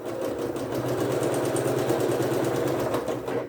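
Close, continuous whir of a sewing machine stitching quilt triangle squares, a fast even mechanical buzz running steadily for several seconds before stopping, with no talk over it.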